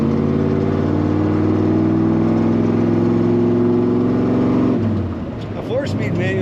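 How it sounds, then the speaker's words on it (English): Loud engine of a 1961 Ford F-250 4x4 pickup driving with a 4-speed manual. A steady, rumbling drone holds for several seconds, then the pitch drops as it shifts or backs off. Close and dominant. "Today we're driving a 1961 F-250 with a lovely sound"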